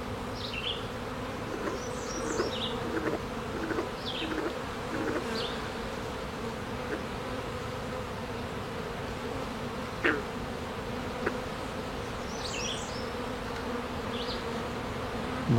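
Honeybees humming steadily inside an opened hive during an inspection, a constant close buzz with occasional higher whines of individual bees and a few light knocks.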